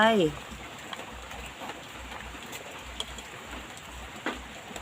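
Rain falling outdoors makes a faint, steady patter with a few sharper drops, and a brief bird call sounds at the very start.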